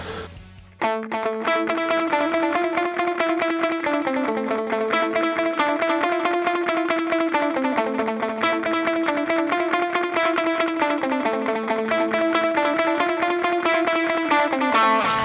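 Electric guitar plays the repeating picked intro of a song through heavy effects, shimmering and distorted with chorus and echo, continuous and fairly loud, no voices.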